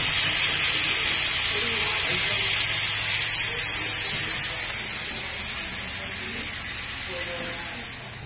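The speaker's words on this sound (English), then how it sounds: "Listen to that sizzle." Steady, loud hiss and crackle of Atlantic cod or Pacific rockfish sizzling skin-side in a hot pan, continuous throughout and slightly easing toward the end.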